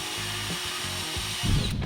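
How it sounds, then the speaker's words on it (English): A power drill bores pilot holes for a hidden countertop support bracket, its motor whining in short stuttering bursts before biting harder into wood near the end. "I'm gonna go ahead and start drilling my pilot holes."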